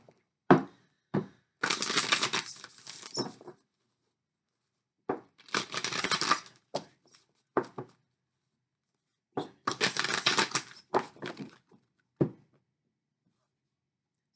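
Tarot love cards shuffled and drawn by hand, three bursts of dense riffling about two seconds each with scattered soft taps and card flicks between them, close and quiet with no talking.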